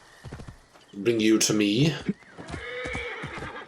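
Horse neighing and whinnying loudly in the Assassin's Creed: Origins game, the black arrow mount, with a few hoof clip-clops around it and a voice talking at the start and end.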